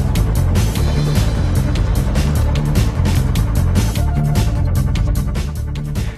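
A small car tows a large folded aircraft along a public road, its engine droning loud and close with a rapid rattling tick running through it.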